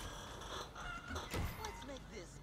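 Chicken clucking from the video game Paladins, a few short fowl calls in the game audio heard faintly beneath ongoing voice chat.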